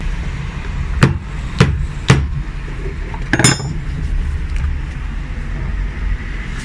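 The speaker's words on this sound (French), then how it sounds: "on va taper avec un marteau dessus et on va voir si ça change quelque chose" Hammer striking a metal nail set into the heel of a high-heel shoe during a repair, with four sharp, separate taps, the last a quick double strike, close and clear against a quiet background.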